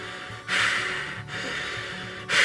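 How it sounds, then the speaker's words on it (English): Close, audible breathing from someone wearing liquid latex face makeup, with three long breaths separated by brief pauses, each a breathy rush right at the face. "Hearing yourself breathing is kind of unsettling."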